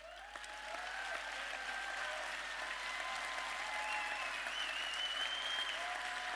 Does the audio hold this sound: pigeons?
no